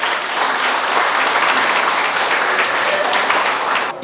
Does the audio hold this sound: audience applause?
yes